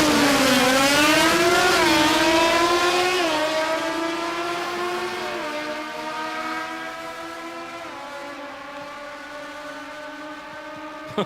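A Mazda 1300 wagon with a 13B rotary and heavy flywheel screams through its gears at a Sydney drag race, with rising high revs and shift drops, then fades into the distance.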